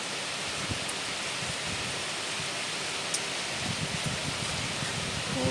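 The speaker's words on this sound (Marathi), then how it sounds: "खूप जास्ती प्रमाणात पाऊस होत आहे" Heavy rain falls steadily as a dense, even wash of noise, with a few sharper drops and splashes standing out now and then.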